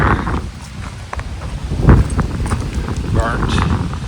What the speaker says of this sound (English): In case you can't hear the wind, I got plenty of that too.